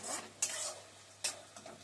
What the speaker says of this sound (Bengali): এবার শুটকি মাছগুলোকে ছেড়ে দেবো।